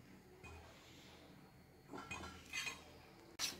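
Soft scraping and clinking of a utensil against a bowl as torn bread pieces are mixed for a bread pizza omelette, a few quiet stirring strokes building to sharper taps near the end.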